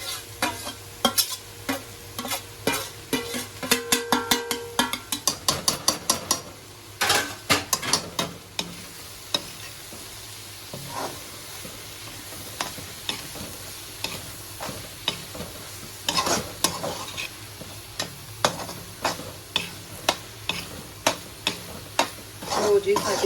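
Paneer bhurji being stirred and fried in a pan, with a spoon repeatedly scraping and clinking against the metal over a steady sizzle. The strokes are quick and rhythmic at first, then sparser, and the sound stays close throughout.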